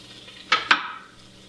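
Two quick metallic clanks of a spoon against a pot as curry paste is stirred into onions for a sweet potato chickpea curry, close and distinct over a quiet background.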